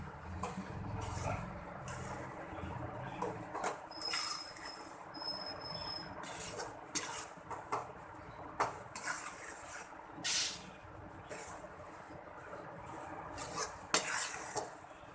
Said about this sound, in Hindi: ये देखें शीरा डाल के अच्छे से आपने इसकी मिक्सिंग करनी है